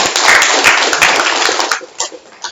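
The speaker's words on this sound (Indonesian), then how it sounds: "Sekali lagi tepuk tangan untuk kelompok 2 ya." Applause for a group of performers at a teacher-training event, a dense burst of clapping that stays loud for most of the moment, then thins into a few scattered claps.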